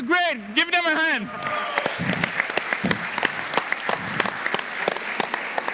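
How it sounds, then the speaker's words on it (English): At a business conference, a voice calls out a rising and falling whoop. Then the audience bursts into steady, full applause that carries on strongly for the rest of the moment. "I want you guys to give a big round of applause."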